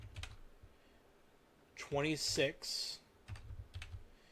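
Numbers keyed into a calculator for a sine calculation, a few light taps on either side of a person talking.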